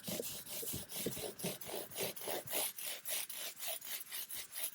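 A guitar's wooden surface being sanded by hand in steady back-and-forth strokes, about three per second, with a rhythmic raspy scrape that is close and fairly quiet, with no speech.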